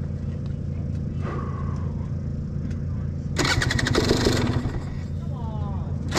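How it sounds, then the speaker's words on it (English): Dirt bike engines roar to life together at the start of a snowy hare scrambles race, a loud burst of revving rising over a rumbling background, with voices talking. "My bike fired right up, dropped the clutch, and I killed it."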